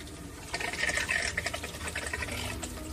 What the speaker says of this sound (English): Allow the tank to fill